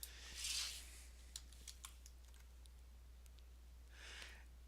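A few faint, scattered key clicks against a steady low hum, with brief soft rustles at the start and end.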